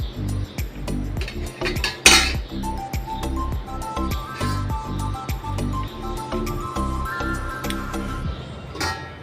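Pan and utensils clink and tick repeatedly in an even, steady rhythm while fried catla fish is added to a kaliya curry, with one sharper clatter near the start and continuous close kitchen noise throughout.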